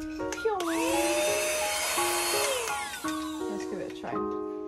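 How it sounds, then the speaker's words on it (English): New Hoover vacuum cleaner running indoors, a steady close whine with motor pitch rising and falling as it starts and moves, while people talk over it. "We got this new Hoover, it's so good."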